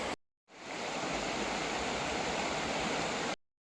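River water rushes steadily over stones at a Jamaican riverside, a continuous broadband roar close by after a brief silent gap at the start, with no talk over it.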